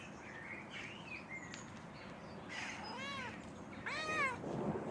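A video game cat meows a few times in a quiet scene, with soft bird chirps in the background and a louder, drawn-out meow at the end.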